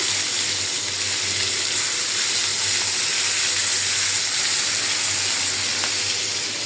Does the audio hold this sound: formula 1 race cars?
no